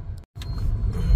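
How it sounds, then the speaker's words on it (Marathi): Road traffic near Virar Phata is heard from inside a car as a close, steady low rumble of engines and tyres, cut by a brief silent gap before resuming. "ट्रॅफिक."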